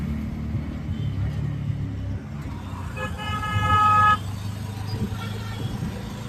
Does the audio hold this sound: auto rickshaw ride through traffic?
yes